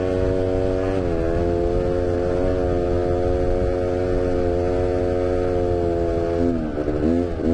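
A four-wheeled quad ATV with a brand-new engine being run in, giving a steady, loud buzzing engine drone close by that climbs in pitch briefly near the start and again toward the end, with no talk.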